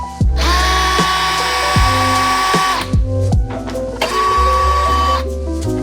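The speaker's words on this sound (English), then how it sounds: "But go ahead and remove those screws first." A power drill backs screws out of the tailgate cap on a Jeep Gladiator JT, giving two long, loud whirring runs with a short pause between, close up, with no speech.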